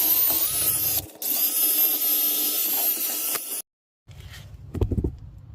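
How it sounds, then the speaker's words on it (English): A wire brush, likely power-driven, scrubs a brake rotor hub on a 2013-or-later Subaru BRZ with a harsh, loud whirring rasp. It breaks off briefly, resumes, cuts out to near silence, then returns in a rougher burst. "you use a wire brush to clean all that."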